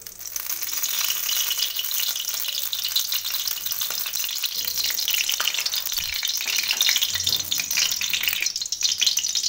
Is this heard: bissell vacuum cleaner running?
no